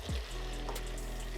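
Bolognese sauce bubbles and sizzles gently in a pan while it reduces, a soft continuous hiss with a low bubbling undertone and no talking.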